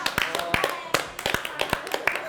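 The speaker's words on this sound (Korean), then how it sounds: "박수." Scattered claps ring out from a small class group as a student is crowned the day's winner of an electricity-bill quiz, sharp irregular hand claps close by, brief and uneven rather than a full ovation.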